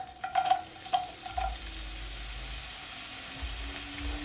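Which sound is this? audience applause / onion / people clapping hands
onion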